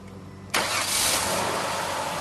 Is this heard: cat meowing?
no